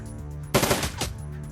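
Gun turrets firing in the video game Dragonfall: a single short burst of rapid automatic fire, loud and close, cutting sharply through a steady low game hum before fading back to background.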